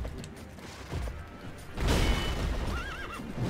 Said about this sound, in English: Horse is now jumping.